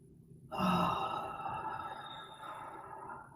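A slow, audible exhale during a seated chair yoga cow-pose stretch, one long breath that swells quickly and then tapers off over a few seconds, close and fairly soft.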